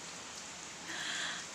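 Rain falls in wet weather as a soft, steady hiss of drops on surfaces. It is faint and continuous, with a slight swell near the end and no voices.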